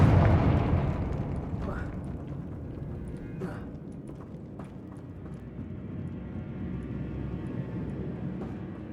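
A Confringo fire spell from the game Hogwarts Legacy bursts at the start with a loud broadband blast, then rumbles on as a dense, steady layer of game noise with scattered sharp pops and crackles.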